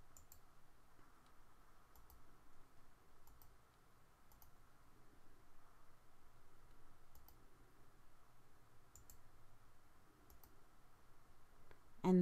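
Computer mouse clicks while assigning materials to parts in AutoCAD, quiet, sparse and irregular taps against a faint steady room hiss.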